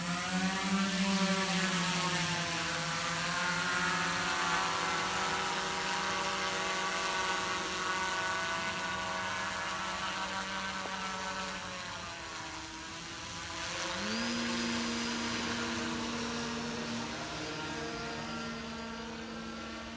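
Multiple VTOL drone motors whir loudly with shifting pitch, fading slightly mid-way before rising again to a steady higher whine.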